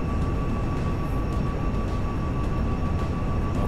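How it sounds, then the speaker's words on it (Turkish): A police helicopter in the video game GTA V drones steadily and loudly throughout, its rotor and engine forming a constant low rumble with a faint whine above, with no talk. "Helikopter var arkanızda."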